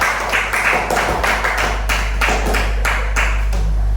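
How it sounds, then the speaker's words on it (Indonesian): Teachers at a positive-discipline education session clap together in a rhythmic burst of sharp hand claps, fairly close, over a constant low hum. "tepuk tangan untuk Bapak Ibu"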